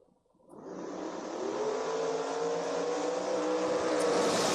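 Drag race cars, a Camaro and an El Camino, launch from near silence at the creek strip, their engines swelling into a loud, sustained roar that keeps building as they pull away.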